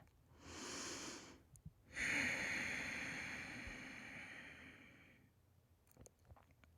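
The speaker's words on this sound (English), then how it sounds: "I want to invite you to just take a nice deep breath" A deep breath taken during guided meditation: a soft inhale followed by a long, slow exhale, close and quiet with no talking.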